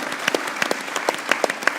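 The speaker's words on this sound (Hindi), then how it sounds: "मैं एक ज़ोरदार तालियां अपनी ऑडियंस से बजाऊंगा" Sparse, uneven clapping from a small studio audience on a cricket talk show, individual claps distinct and fairly quiet with gaps between them.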